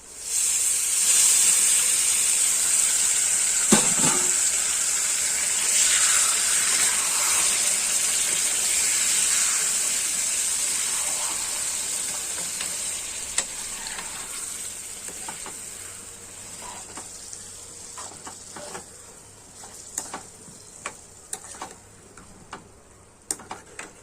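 Amaranth leaves (thotakura) frying in a pan: a strong hiss and sizzle that slowly fades as the leaves wilt, with occasional ticks and stirring clatter toward the end.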